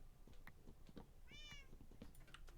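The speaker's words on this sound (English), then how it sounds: "I'm gonna find where that cat is." A cat in the video game GTNH lets out a single clear meow midway, set against a busy background of soft game sounds, with no speech.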